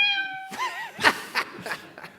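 A cat meow recreated by an AI model trained only on instruments: a steady tonal note gives way to a warbling, meow-like sweep, then several shorter synthetic meow bursts follow, close and moderately loud.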